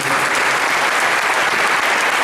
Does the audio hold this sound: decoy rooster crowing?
no